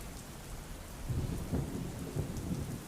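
Heavy rain pours steadily over Ahmedabad, a dense close hiss with low rumbling thunder swelling midway and continuing under the downpour, no voices present.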